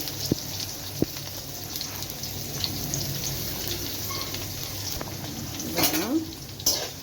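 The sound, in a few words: sautéing small onions and garlic in a pan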